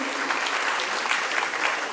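A seated audience at a Hindi poetry recital (kavi sammelan) applauds steadily, a dense wash of many hands clapping evenly throughout, with no voices over it.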